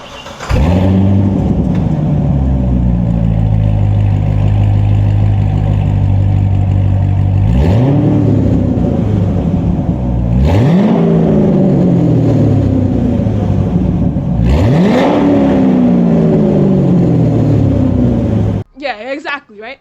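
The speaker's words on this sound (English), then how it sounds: "That 7-liter naturally aspirated V8" A C6 Corvette Z06's 7-liter naturally aspirated V8 with cam and exhaust work revs hard three times, each blip rising sharply then falling back over a steady loud idle rumble, with the engine close and dominant throughout.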